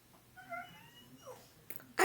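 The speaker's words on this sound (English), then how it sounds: "I got my puppy dog." A puppy whimpers softly with faint high whines and breathing sounds over a quiet room, followed by a short louder rustle or snuffle at the end.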